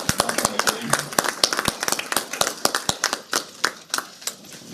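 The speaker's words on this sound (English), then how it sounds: "Let us give a round of applause to the principal coming here to visit their parents." A school audience claps at an essay and drama competition as the principal arrives, a steady run of sharp individual hand claps from a small group at close range, gradually thinning toward the end.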